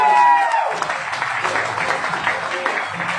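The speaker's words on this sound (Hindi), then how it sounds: "क्या जोरदार तालियां" An audience at a business meeting breaks into steady applause that carries on throughout, with a voice talking at the start and more speech mixed under the clapping.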